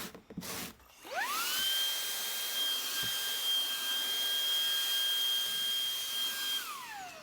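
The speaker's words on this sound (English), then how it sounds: "For a little handheld vacuum, it really does a lot, and it's perfect for pet hair and cleaning the cab." A Shark handheld vacuum cleans dog hair out of a Unimog truck cab. It spins up with a rising whine, holds a steady, close, high-pitched motor hum for several seconds, then winds down as it shuts off.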